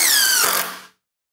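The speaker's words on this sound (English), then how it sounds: "Let's drive a couple screws." A power drill drives wood screws in a short, high whining burst that winds down and stops within about a second.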